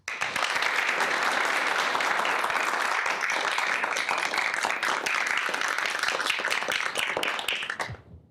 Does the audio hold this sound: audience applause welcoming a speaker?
yes